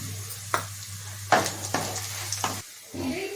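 Onions, green chillies and urad dal sautéing in a pan, a hissing sizzle interrupted by a few sharp stirring scrapes and clatters, close and fairly loud, briefly dropping away near the end before resuming, no voices.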